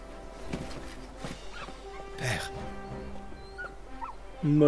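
A small dog in a video game whimpers and yips in short, high cries scattered over the clip, heard over a game soundtrack with talk close by.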